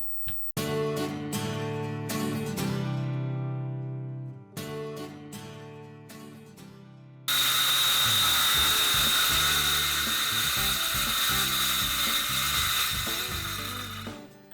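A hole saw on a battery-powered drill cuts a hole, with several short whirring bursts and pauses, then one long steady grinding cut that keeps going to the end, loud and close.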